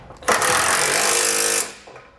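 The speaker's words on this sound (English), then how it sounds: "14mm socket to tighten the nut down on each side." Short continuous burst of a power impact tool driving a 14mm socket onto hitch nuts on a 2020 Subaru Outback Wagon, loud and close, starting abruptly and stopping after about a second and a half.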